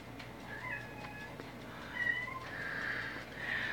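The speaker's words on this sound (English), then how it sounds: "That's Marie meowing" A cat meows repeatedly while playing with a rubber band, several drawn-out, fairly close calls over a low steady background hum, with no talk.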